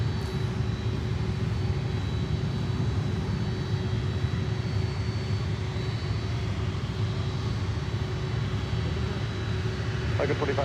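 A cargo plane's engines roar in a broad steady drone as it takes off at Miami Airport, heard from a distance with a faint tonal whine and voices talking in the background.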